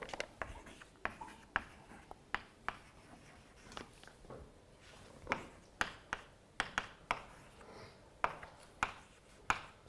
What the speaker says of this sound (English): so let me write down this remark